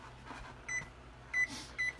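A kitchen oven timer gives three short, faint electronic beeps spaced apart over quiet room noise while cookies bake. No one speaks.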